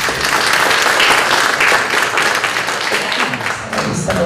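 A crowd applauds steadily and loudly, dense clapping filling the whole stretch with only slight swells.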